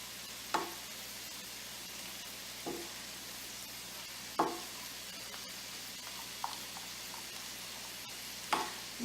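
Creamy beef stroganoff simmering over lowered heat in a pan gives a soft, steady bubbling hiss, broken by a few louder spoon scrapes and stirring clinks spaced across the stretch, with no voices.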